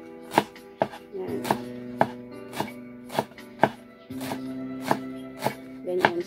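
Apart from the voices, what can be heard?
knife chopping sweet potato leaves into small pieces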